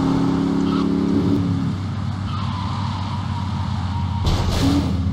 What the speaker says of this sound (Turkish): Limuzinden böyle ses çıkar mı lan?